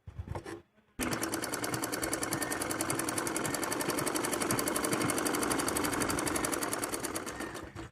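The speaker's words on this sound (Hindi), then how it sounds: "दोनों को बराबर में रख के सिलाई लगाएंगे।" A sewing machine stitches a fabric seam in one continuous rapid whirring run after a brief pause. The sound is near and even and holds steady to the end.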